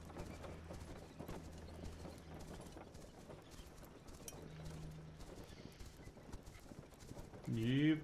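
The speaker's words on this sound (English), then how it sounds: "Oh yeah, we got us a horse." Rapid, steady hoofbeats of a horse pulling a wagon in the game This Land Is My Land clip-clop throughout, with a horse whinnying near the end and a voice talking briefly over it.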